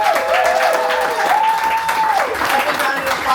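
Audience clapping at a poetry reading, steady and fairly loud, with voices and whoops over the applause and a tonal sound rising and holding through the middle.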